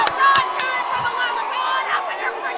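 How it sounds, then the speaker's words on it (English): A basketball crowd at a high school game between the Sheldon Clark Cardinals and Paintsville Tigers roars and cheers wildly, with whistles and yells in a dense, loud burst of excitement. "The crowd is just going wild."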